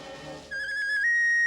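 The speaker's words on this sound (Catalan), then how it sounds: "si tinguéssim el xiulet màgic, ens podríem salvar" A magic whistle blown in a Smurfs cartoon gives a steady, clear high tone that holds for about a second, then jumps slightly higher and sustains to the end, following a brief stretch of quiet background.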